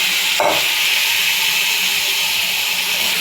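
Vegetables such as carrot, long beans and papaya frying in a little oil for a Chinese-style recipe, giving a loud steady hiss and sizzle with a brief clatter near the start.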